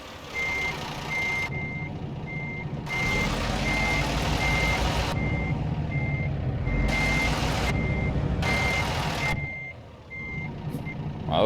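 Backing a small trailer in American Truck Simulator sets off a truck's reversing alarm: steady, evenly spaced beeps repeating over a deep engine rumble, with no talking.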